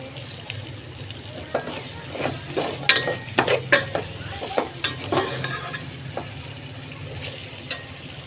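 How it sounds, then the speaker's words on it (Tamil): Turkey berries are sautéed in a pan for a tamarind curry, giving a soft sizzle broken by repeated scraping and stirring strokes of a spoon, close by and steady throughout. "இதோடையே நல்லா வதக்கி விட்டுக்கலாம்"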